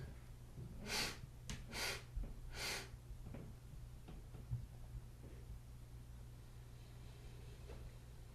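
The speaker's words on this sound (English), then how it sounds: "Three short sniffs right." Three short, sharp nasal sniffs in quick succession, each a brief breathy burst close to the ear, followed by quiet breathing against a low steady background hum.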